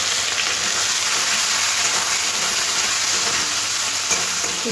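Whole cumin seeds and onions fry in hot oil in a pan while a Bengali chicken curry is being cooked, giving a loud, steady sizzle with faint stirring and no talk.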